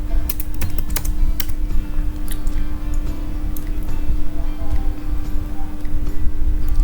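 A computer keyboard typing a Linux command in a terminal: quick, light clicking keystrokes in a loose burst at the start, then sparser taps over a steady background hum, with no talking.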